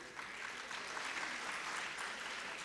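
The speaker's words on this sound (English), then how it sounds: "with your huge round of applause" Sustained applause from an audience at a nursing research conference, a steady dense wash of clapping that holds evenly for the whole stretch with no voices over it.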